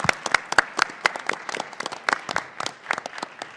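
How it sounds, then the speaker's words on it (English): At a national moot court competition awards ceremony, a modest audience claps in sharp, fairly sparse hand claps close by, with no talking over them. "First, I want to offer everyone a round of applause for tonight's final round."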